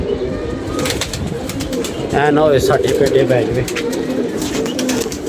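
Pigeons cooing in soft, repeated rolling calls, close by, with someone talking over them throughout.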